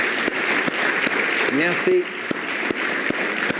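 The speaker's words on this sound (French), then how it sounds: "On les applaudit bien fort." Crowd applause in a church congregation welcoming visiting members, a steady wash of clapping with a brief spoken word and sung vocal fragments over it.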